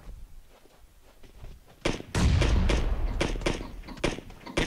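Grenade blast in PUBG, a sharp loud thump that booms up abruptly after a quieter stretch and rolls on with heavy low rumble and scattered follow-up cracks.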